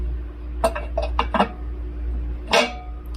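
Metal non-slip rack set onto a gas burner, giving a few quick light clanks and clinks in a short cluster, then one louder metallic clack, close and alone with no talk.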